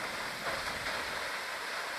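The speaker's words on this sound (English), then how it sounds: "pretty cool waterfall." Steady broadband roar of a waterfall in Yellowstone National Park, an even wash of rushing water heard from some distance, unbroken and without talk.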